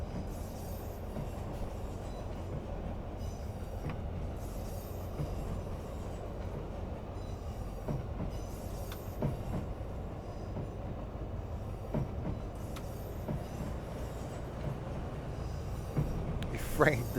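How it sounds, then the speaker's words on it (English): A Class 156 diesel multiple unit runs from Glasgow to Mallaig in Train Sim Classic, giving a steady low rumble with faint wheel clicks and occasional squeals, under light talk throughout. "I'm driving a train from Glasgow to Mallaig."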